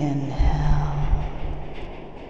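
A train in the Postal 2 video game, a loud steady low rumble with rhythmic rolling thumps, while a voice speaks over it.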